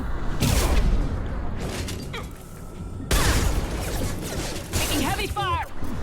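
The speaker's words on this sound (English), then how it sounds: "Taking heavy fire." Heavy gunfire rattles through a firefight in the video game Mass Effect 2, dense loud bursts and crashes that come in two main waves, mixed with voices talking over the combat.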